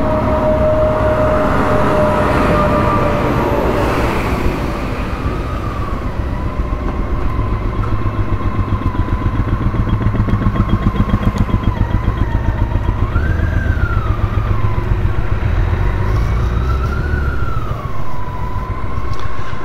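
A BMW K1600 GTL motorcycle rolls onto a home driveway with a loud, close, steady engine drone whose pitch wavers and rises briefly as the throttle changes.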